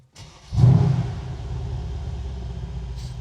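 A 5.5-litre biturbo V8 of a Mercedes-Benz E 63 S AMG, nearly 600 horsepower, fires up with a sharp, loud rev, then settles into a deep, throaty idle rumble close by.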